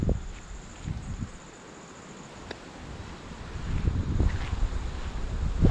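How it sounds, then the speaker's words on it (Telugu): Gusty wind buffets the microphone in uneven rumbling surges, rising toward the end, with faint rustling and occasional soft knocks. "ఎంత గాలి వస్తుంది."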